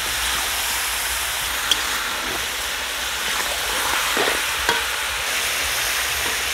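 Mutton seasoned with salt is stirred in a frying pan, a steady dense sizzle running throughout with a few faint scrapes and knocks of the utensil, no voices.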